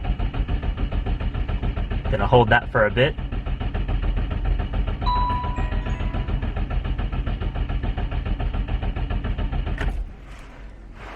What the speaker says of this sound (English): We're going to try and crank it over.